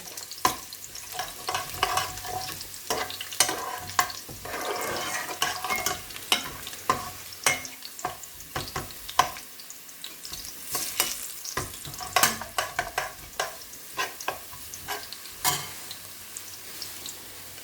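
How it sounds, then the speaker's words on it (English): Garlic frying in a pan with browned fenugreek seeds for a rohu fish and bottle gourd curry, a steady sizzle broken by frequent sharp clicks and scrapes of a spoon stirring, close and fairly loud throughout. "I'm going to add my garlic. The garlic just brown off slightly."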